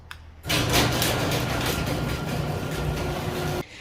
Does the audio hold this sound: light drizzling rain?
no